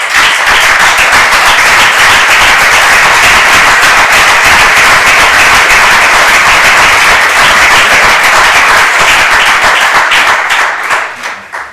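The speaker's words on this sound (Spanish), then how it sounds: "Este aplauso va por ello" A conference audience applauds loudly and steadily, with dense clapping from many hands that holds for more than ten seconds before starting to thin out at the end.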